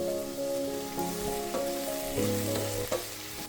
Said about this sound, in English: Add the roughly chopped ginger and garlic. Saute them and sprinkle some salt.